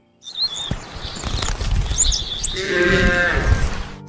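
A shepherd's flock of sheep arriving at a dry farm field, bleating close by over a steady rustle and patter of hooves, with a clearer, louder bleat rising near the end.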